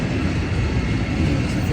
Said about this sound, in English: A very long, slow train.